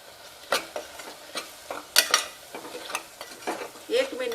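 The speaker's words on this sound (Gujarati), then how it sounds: "એક મિનિટ સુધી આ મસાલાને ચડવા દઈશું।" Spices, garam masala and turmeric frying in a pan for pulao, with repeated sharp scraping strokes of a spoon stirring against the metal over a soft sizzle.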